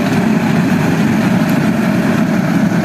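A Fiat 640 tractor, a 2010 model, runs steadily with a loud, continuous low engine drone and no pauses, heard alone without talk.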